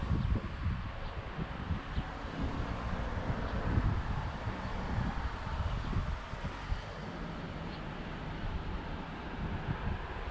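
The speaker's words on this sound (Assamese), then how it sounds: "লগতে প্ৰচণ্ড বতাহ" Strong wind gusting outdoors among blossoming cherry trees in Japan, a continuous rough buffeting roar with rustling, steady and fairly loud throughout.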